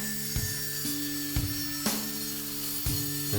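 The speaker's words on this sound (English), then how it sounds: "Now I got a stop block set up and I'm cutting the two shelves." Saw cutting two plywood shelves against a stop block, heard as several short rasping cuts, about four strokes at roughly one-second intervals, each a brief burst over a steady mechanical hum.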